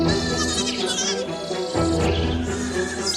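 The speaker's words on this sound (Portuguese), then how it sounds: "um rebanho de cabras montesas se movia em fila." A herd of mountain goats bleats in overlapping, wavering cries, several calls layered close together and fairly loud against a busy background.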